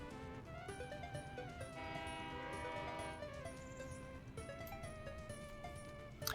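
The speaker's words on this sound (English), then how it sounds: "that's a construction train coming in to electrify this line" Construction train arriving in the city-building video game Workers & Resources: Soviet Republic, a sustained harmonic horn-like tone with shifting pitches over a constant low rumble, alone without talk.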